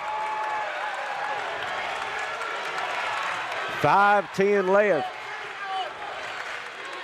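Pikeville fans at a girls' 15th Region semifinal basketball game against Paintsville let out a loud burst of crowd noise and cheering, with an announcer's voice and clear whistle or horn-like tones cutting through in the middle.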